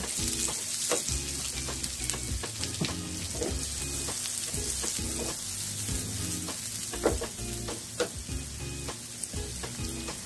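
Garlic and onion sauté in a hot pan for a vinegar squid dish, giving a loud, continuous sizzle punctuated by frequent stirring scrapes and taps.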